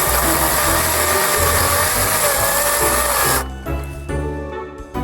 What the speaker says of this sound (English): this chainsaw is a piece of crap